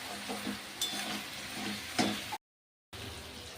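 Cloves, cinnamon and bay leaf being stirred in a pan for chicken biryani, frying with a steady low sizzle and a few scraping strokes and clinks of the spoon, close up, with a short silent gap near the end.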